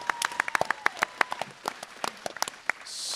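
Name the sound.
audience applause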